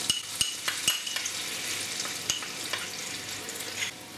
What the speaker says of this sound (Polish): Na patelnię wrzucam tak mniej więcej płaską łyżkę masła na roztopione masełko wrzucę przygotowaną łyżkę miodu